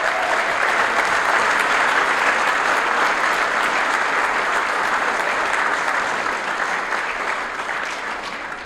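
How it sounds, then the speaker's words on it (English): Banquet audience applauding scholar athletes fills the room with steady, dense clapping, loud and unbroken, easing off slightly near the end. "I would just like one more round of applause for our 2023 Scholar Athletes"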